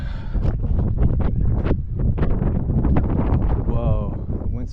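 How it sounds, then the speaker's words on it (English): Wind gusting at a campsite on sacred land, roaring and buffeting the microphone close up in a steady rush, while a person talks over it. "the wind started kicking up more"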